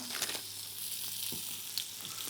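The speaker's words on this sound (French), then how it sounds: "Je place mon foie gras dans la poêle" Cold foie gras slices sear in a very hot pan over high heat, a steady, soft hiss of frying fat throughout with faint crackles.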